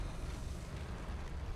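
Cannon blast in Dark Souls 3: a dense, rumbling burst of sound fills the whole brief moment with no break.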